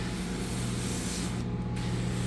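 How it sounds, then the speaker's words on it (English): Enzyme pre-spray hisses steadily from a sprayer onto carpet in an empty home, a close continuous spray with a constant low pump hum underneath and a brief pause near the end. "So I just wanted to show you guys a little bit of the pre-spraying"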